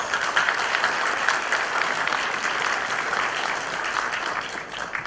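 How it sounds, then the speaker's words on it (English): A graduation audience gives a sustained round of applause for the graduates, a continuous wash of many hands clapping at moderate volume with no clear voices. "Please let us give them a round of applause."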